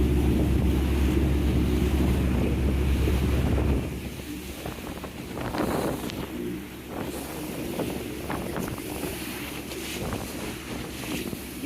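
A boat cruises the sea around Capri, with strong wind buffeting the microphone, a constant engine and water rush, and spray splashing in bursts alongside the hull.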